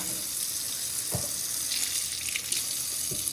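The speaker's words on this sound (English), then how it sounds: "I come in just with faucet water" Running tap water hisses steadily close by, with a few soft knocks and splashes as parts of a Euhomy nugget ice maker are rinsed under the stream.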